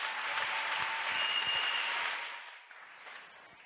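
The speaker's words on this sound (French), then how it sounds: "Let's clap for Jesus." Congregation applauding during a church prayer service, a dense, steady wash of hand claps that holds strong for about two seconds, then thins and fades as the clapping dies down.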